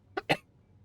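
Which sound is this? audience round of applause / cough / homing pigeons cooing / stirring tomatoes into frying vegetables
cough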